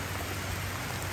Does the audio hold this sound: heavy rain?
yes